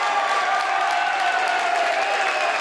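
A high-school boys basketball crowd in a gym rises to its feet after a technical foul on the LaSalle-Peru bench, a loud, steady roar of cheering and applause that fills the whole moment.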